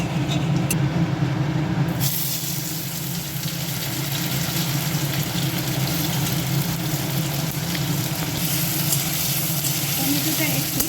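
Chopped tomato frying in a pan of jeera aloo curry over a low gas flame, a steady broadband sizzle that swells a little after the first two seconds and runs on without pause, with a low hum beneath.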